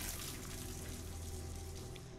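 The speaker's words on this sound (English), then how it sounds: "What's that water running sound?" Tap water runs steadily in the Hitman 2 video game, a constant soft hiss and splash that is faint and even throughout, with no talking.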